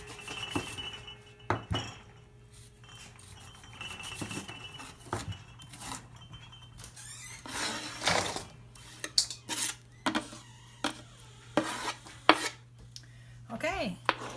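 Two large candy onions are cut up for homemade salsa, giving sparse knife taps and clinks of dishes and utensils on a hard surface, with a steady low hum underneath and a quicker run of taps toward the end.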